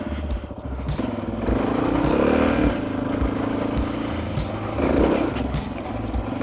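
Honda XR650R dirt bike engine running while being ridden, a loud steady motor drone that swells as it revs around the middle and again near the end, with some rattling clatter.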